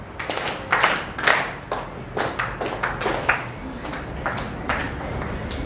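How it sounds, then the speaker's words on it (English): A classroom of students claps for a classmate, loose uneven hand claps, some sharp and close, spread across a few seconds with gaps between bursts. "Clap your hand for him."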